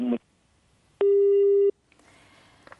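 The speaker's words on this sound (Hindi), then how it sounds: "ओके, फोन कट गया, कोई बात नहीं।" A short burst of voice, then a steady electronic busy tone holds for under a second as a phone call drops, followed by faint line noise and clicks.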